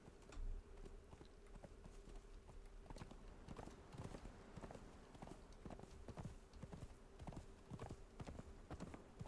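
A horse gallops in the survival video game Conan Exiles, rapid rhythmic hoof clip-clops repeating steadily under faint game ambience with a low hum.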